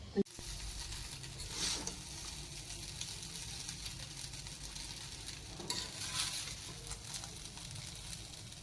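Food sizzles steadily in a hot pan, a soft, continuous frying hiss with a couple of brief louder stirring swells and no voices over it.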